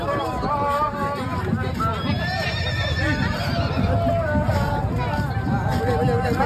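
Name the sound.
horse neighing in a parade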